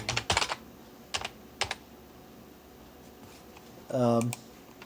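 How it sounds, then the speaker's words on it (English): Someone types on a computer keyboard with sparse clusters of quick keystroke clicks, close and fairly quiet, spread across several seconds. A short voiced sound is heard near the end. "I'm trying to type something"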